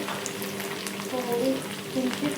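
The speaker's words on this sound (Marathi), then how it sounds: "कढीपत्ता झाल्यावरती कोथिंबीर बी टाकते. कोथिंबीर छानपैकी परतून घेते" Curry leaves and coriander fry in hot tempering oil with cumin in a pan, a steady close sizzle with light stirring and faint crackles over a short stretch.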